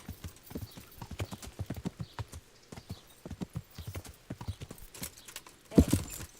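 Rapid horse hooves clip-clop in a steady trotting rhythm, ending with a louder burst near the end, a sound effect from the video game Kingdom Come: Deliverance.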